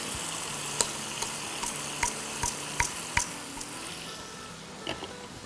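Masala spice mix frying in a pan for chicken nihari, a soft steady sizzle with light ticking taps of a spoon stirring against the pan.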